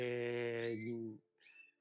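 Pet birds in an aviary let out a sustained harmonic call followed after a short pause by a brief higher chirp, close and fairly quiet with no other sound around.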